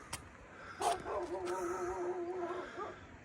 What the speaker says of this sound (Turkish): Köpek de peşin bırakmadı.